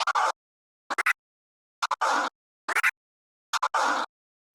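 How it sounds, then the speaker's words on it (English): DJ crab scratches on a turntable, heard alone as four rapid clusters of sharp stuttering bursts spaced about a second apart, each a quick flurry of chopped, whooshing record sound. "So the crab scratch would sound like this"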